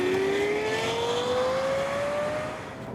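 A Lexus LFA supercar engine howls at high revs, its pitch rising smoothly and steadily as it pulls, loud and close with no voices over it.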